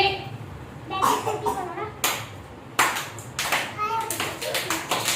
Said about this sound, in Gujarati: બધા તાળી પાડો